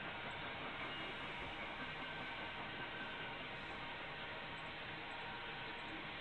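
A CN-lettered potash freight train runs fast through Neenah, giving a steady, loud, continuous rumble and roar of rolling cars with no breaks and no voices.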